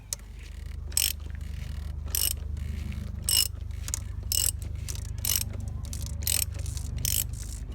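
Ratchet wrench clicking in repeated bursts as it loosens the oil filter housing on a BMW X5 E70 35d diesel, about nine crisp ratcheting strokes at a steady rhythm over a low background hum, close and moderately loud.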